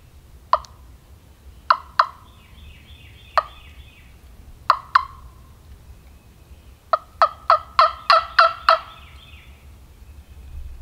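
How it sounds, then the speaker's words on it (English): A wild turkey longbeard gobbles in hardwood hill country at sunrise, several sharp, loud bursts spaced apart, then a quick rapid string of gobbles near the end, carrying clearly over quiet woods. "I just got him to gobble as soon as I shut the camera off"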